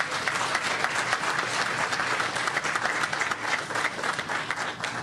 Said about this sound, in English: that's really nice, polite applause, ladies and gentlemen